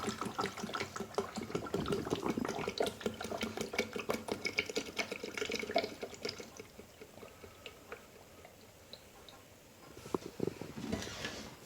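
Clean water runs from a tap into the rinse side of an O-Cedar EasyWring RinseClean spin mop bucket, a close, steady splashing pour that thins out and stops, followed by a few faint knocks.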